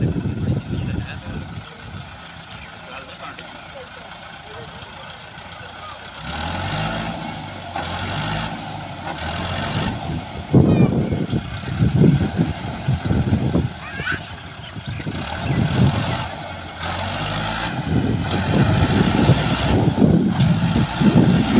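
A Massey Ferguson 385 4x4 tractor engine running on soft farmland, a low rumbling drone that pulses and grows louder, with intermittent clanking and mechanical noise throughout.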